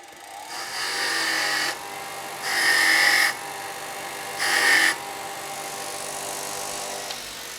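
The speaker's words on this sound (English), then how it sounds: "I'll just give this a bit of a quick clean up on the wire wheel" A bench wire wheel scrubbing a metal part in a workshop, three separate loud grinding bursts, each about a second long, over the steady whir of the motor.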